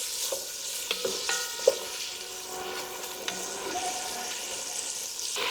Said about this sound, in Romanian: Eu am tăiat jambonul bucățele așa cam medii, nici prea mici, nici prea mari și acum o să le călesc puțin